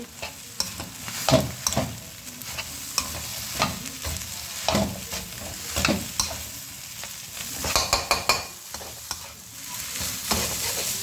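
Rice noodles being stir-fried in a pan with sugar added, an ongoing sizzle with repeated scraping and clacking strokes of a spatula, close and moderately loud, with no talking.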